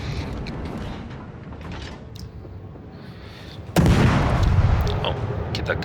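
Incoming naval gunfire in World of Warships at Jutland: a low rumbling ship ambience with creaking, then a sudden heavy boom and sustained roaring splash-like wash of shells landing nearby.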